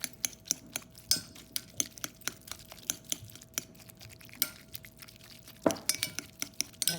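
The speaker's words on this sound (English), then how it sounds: "Use the back side of the spoon to kind of mix it together" A spoon clinking against a bowl while mixing olive oil, salt and pepper, a rapid series of sharp, light taps and scrapes at close range.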